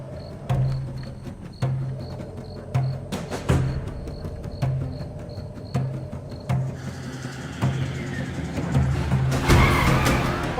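A car skids to a stop with tire squeal over a steady engine hum. Repeated sharp bursts and a rising rush build toward the end.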